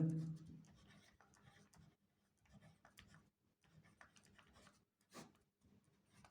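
A pen writing on paper while working a Class 8 math problem about a closed cylindrical tank: soft, scratchy strokes that come in short bursts with brief pauses, faint and close, with no talking.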